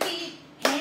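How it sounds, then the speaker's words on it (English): Two quick bursts of hands clapping during a children's yoga story game, close and moderately loud with a short pause between them. "What if we clapped our hands and our feet?"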